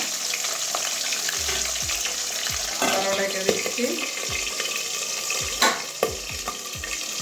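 A rohu fish head spluttering and crackling in hot oil, a steady dense sizzle with sharp pops and bursts throughout, and a brief voice speaking over it midway.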